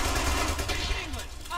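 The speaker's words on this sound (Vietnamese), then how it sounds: "Ôi súng máy nó bắn ghê quá." A machine gun in the video game Brothers in Arms: Hell's Highway fires a dense, continuous rattle of rapid shots, loud and booming throughout.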